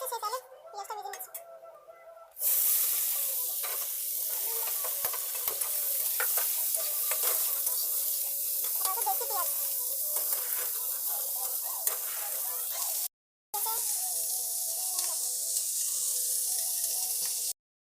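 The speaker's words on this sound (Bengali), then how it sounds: "সেই তেলে পেঁয়াজটা ভেজে নিচ্ছি" Onions fry in leftover oil from frying potatoes, a steady sizzle with stirring that runs through most of the stretch, broken by brief gaps, with a voice speaking over the start.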